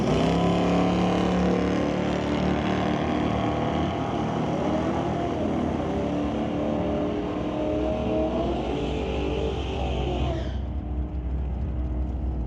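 Drag race cars, a Buick-powered racer against a Ford Mustang Fox body, roar loudly and continuously at full throttle, the engine note rising and then dropping off sharply near the end as they pass.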